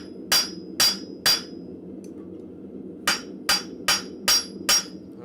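A blacksmith hammers steel flat at a forge, striking sharp, ringing metallic blows. Three come in quick succession, then after a pause five more fall in a steady rhythm, close and loud over faint shop noise.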